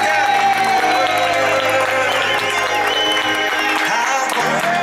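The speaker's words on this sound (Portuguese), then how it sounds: "Uma salva de palmas para nossa homenagem." Applause and cheering at a children's tenth birthday party, loud clapping mixed with crowd noise and festive music playing underneath, with voices blending into the mix.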